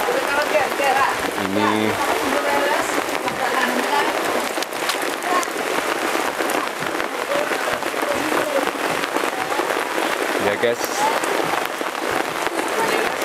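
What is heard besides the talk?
heavy rain falling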